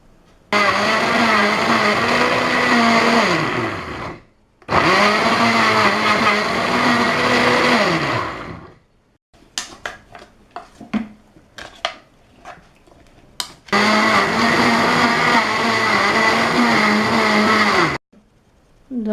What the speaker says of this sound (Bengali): সিরকা দিয়ে ব্লেন্ড করে নেব।